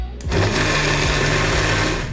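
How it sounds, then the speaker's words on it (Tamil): A mixer grinder whirs loudly and steadily while grinding coriander chutney, starting abruptly and running at a constant high-pitched drone, close up. "அதை ஒரு மிக்ஸி ஜாரில் போட்டு அரைத்து எடுத்துக்கொள்ளவும்."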